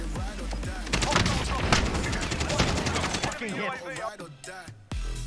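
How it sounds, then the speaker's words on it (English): Rapid bursts of Call of Duty: Warzone gunfire crackle continuously, dense automatic shots overlapping, then thin out into scattered sharper reports near the end. "until I heard a lot of gunfire"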